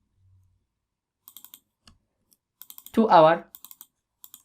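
Computer keyboard keys click in short, sparse bursts of a few strokes each. Someone briefly speaks in the middle of the typing.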